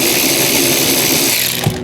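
An electric screwdriver whirs steadily while undoing a T25 Torx screw on a Fiat 500 centre console, a close, loud, continuous motor drone that cuts off just before the end.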